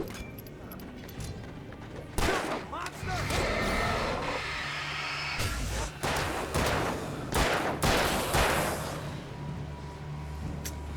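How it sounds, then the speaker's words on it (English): Gunfire in the Alan Wake video game, with bursts of loud, close shots coming in rapid clusters over a steady background of game ambience and rumble. "Yeah, you shoot him."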